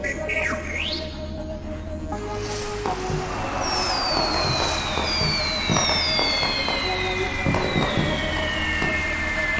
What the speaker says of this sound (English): we've prepared a fireworks display using the chemicals they've submitted